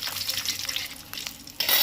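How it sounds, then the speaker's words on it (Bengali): Ginger and bay leaves fry in a hot pan with a steady close sizzle, stirred briefly, and the hiss swells louder near the end. "এবার দিয়ে দিচ্ছি একটা তেজপাতা একটা না দুটো এটাকেও ভালো করে ভেজে নেব"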